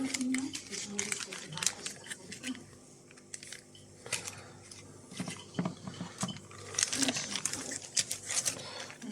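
An empty plastic bag crinkles and rustles in bursts as it is handled on a scale for weighing, close and sharp, with someone speaking throughout.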